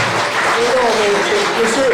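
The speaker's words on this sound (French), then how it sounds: "applaudissez-le" An audience at a town mayor's New Year greetings event applauds in a steady, fairly loud wash of clapping, with a voice heard over it.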